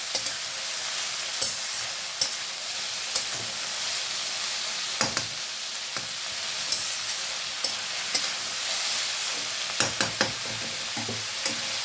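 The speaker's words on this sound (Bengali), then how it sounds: "পেঁয়াজটা ভাজা হোক বন্ধুরা, তারপরে আসছি।" Onions fry steadily in a pan, giving a continuous close sizzle with intermittent clicks and scrapes of stirring.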